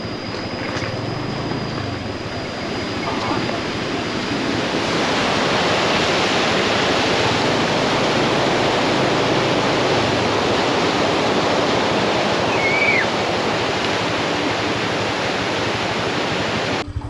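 Steady, broad rushing water of a river in Laos flows continuously throughout, a dense wash of noise like a river current, with no voices.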